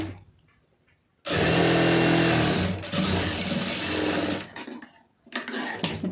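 A sewing machine runs a straight stitch along a blouse seam in one loud, steady burst of whirring for about three seconds, pauses, then restarts briefly with a quieter hum before it.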